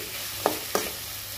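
Ginger garlic paste frying with onions for a samosa filling, a steady close sizzle under two brief stirring scrapes, no voices.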